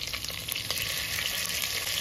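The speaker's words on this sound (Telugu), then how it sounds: "ఇప్పుడు ఈ తాలింపు అంతా కూడా బాగా వేపించుకోవాలి." Stuffed brinjals fry in hot tempering oil in a pan, giving a steady, close sizzle with bright crackling spits and no voices.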